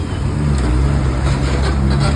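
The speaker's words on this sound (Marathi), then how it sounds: "गाड्यांचा आवाज लय लय लय" Continuous roar of road traffic close by, engines rumbling as vehicles pass, loud and unbroken.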